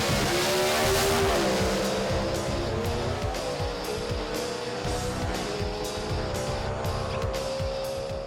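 A Super Comp drag racing car roars at full throttle down the strip at Sydney Dragway, its engine note climbing through rapid gear shifts, loud and continuous across the whole run.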